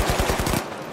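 A turret fires a rapid burst of automatic gunfire in the game The Finals, about six sharp close shots in quick succession that cut off abruptly.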